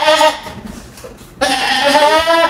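A goat bleats loudly nearby, a harmonic wavering call, then a second longer bleat after a short pause.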